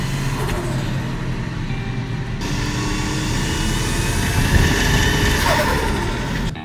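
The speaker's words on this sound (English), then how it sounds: "we are testing the car on very little load, so just low RPM and not much throttle" A turbocharged Toyota Mark II GX100 idles along at low RPM with little throttle and light load, a steady, even engine drone with a low rumble that holds throughout.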